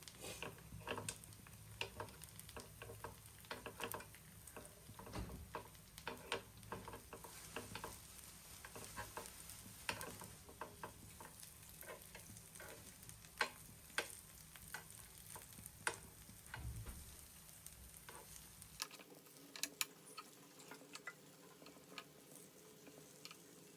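Appe are turned one by one in an appe pan, giving many quick ticking and clicking taps over a soft frying sizzle for about twenty seconds before the sound drops to a quieter hiss.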